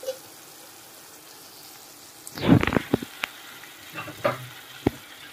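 Boiled egg pieces go into a pan of frying onions, with a soft steady sizzle under a cluster of scraping stirs and a few sharp clicks of a spoon against the pan.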